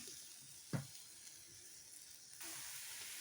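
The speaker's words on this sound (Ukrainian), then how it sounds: "Смажимо на сковородочці, олійки" A soft, steady sizzle of onion and garlic frying in oil in a pan, with a brief clatter early on and the hiss growing slightly louder near the end.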